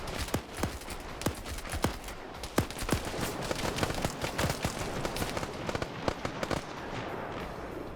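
Automatic gunfire in a military video game: rapid bursts of sharp shots, some loud and close, others fainter, forming an irregular crackling fusillade with no talk over it.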